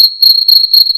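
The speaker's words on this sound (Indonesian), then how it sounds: "Seperti bunyi jangkrik itu, krik krik krik krik." A cricket chirps in a steady, loud, high-pitched trill, pulsing in rapid regular bursts with nothing else heard.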